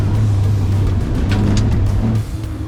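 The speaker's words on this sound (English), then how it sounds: "So the Lotus shot off the line" A lightweight Lotus sports car launches off the line with a loud, close engine roar that holds a steady low drone, then eases slightly near the end.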